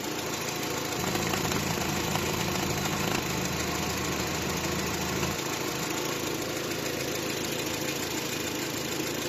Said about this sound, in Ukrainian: Двигун працює добре.